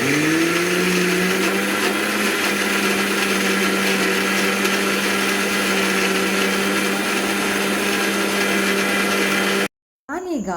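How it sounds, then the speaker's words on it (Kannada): A kitchen mixer grinder churns grated coconut with water in its jar, a loud, steady high whine running without pause for nearly ten seconds before cutting off abruptly, then a brief restart. "1 ತೆಂಗಿನಕಾಯಿಯ ತುರಿಯನ್ನು ಒಂದು ಮಿಕ್ಸಿ ಜಾರ್ಗೆ ಹಾಕಿ ಅದನ್ನು ರುಬ್ಕೊಳ್ಳಿಕ್ಕೆ ಎಷ್ಟು ನೀರು ಬೇಕಾಗುತ್ತೆ ಅಷ್ಟು ನೀರನ್ನು ಕೂಡ ಸೇರಿಸ್ಕೊಂಡು ಒಮ್ಮೆ ಚೆನ್ನಾಗಿ ಗ್ರೈಂಡ್ ಮಾಡ್ಕೊಳ್ತಾ ಇದ್ದೀನಿ"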